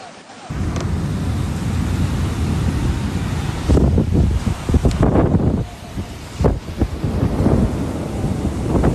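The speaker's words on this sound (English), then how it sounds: "Thunderstorms with strong winds flooded the streets of holy cities." Thunderstorm with strong wind and rain over city streets during flooding in Mecca, Saudi Arabia; steady roar of wind and rain throughout, with louder gusts and rumbling bursts of thunder in the latter half.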